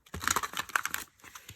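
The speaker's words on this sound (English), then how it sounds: "Let's do the shuffle." A large tarot card deck is shuffled in a quick burst of soft papery riffles and crinkles that fades off near the end, close and fairly quiet.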